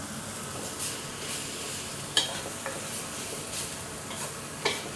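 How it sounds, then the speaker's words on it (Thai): Pork stir-fries with curry paste in a pan over lowered heat, with a steady close sizzle and occasional clinks of a utensil against the pan, no voices. "ผัดจนเนื้อหมูเริ่มสุกก่อนนะครับ"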